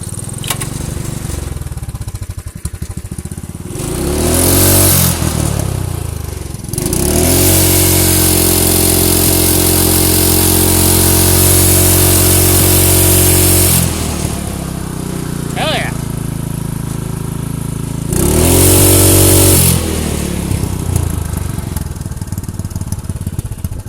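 A loud small snowblower engine with exhaust leaks, fitted with a tall exhaust stack, runs rough and revs in several bursts, with raspy, popping exhaust between revs and settling to an uneven idle.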